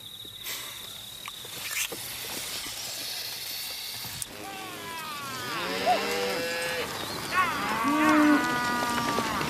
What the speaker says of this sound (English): Those cows are calving.